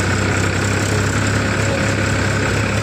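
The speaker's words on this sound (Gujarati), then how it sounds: "આ અમારું ટ્રેક્ટર અને અમે જઈ રહ્યા છીએ" A steady, low tractor engine rumble drones on without a break, loud and close, with a constant vibrating hum and no voices.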